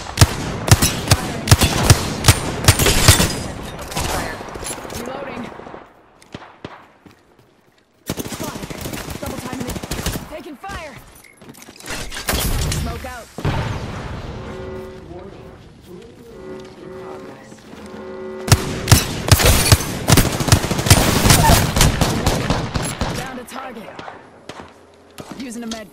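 Rapid automatic gunfire from an Apex Legends match comes in long dense bursts that are broken by short gaps and quieter stretches, with a player talking over parts of the action.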